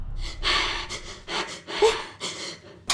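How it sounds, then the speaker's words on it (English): Heavy, ragged breathing in a horror video game comes as a series of close, loud gasps and panting breaths in uneven bursts with short pauses between them. "I heard breathing."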